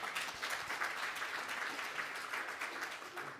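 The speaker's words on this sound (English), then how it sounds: "Can I get a quick round of applause for..." Audience applause at a conference lunch session, a dense continuous wash of many hands clapping, fairly faint and steady without speech.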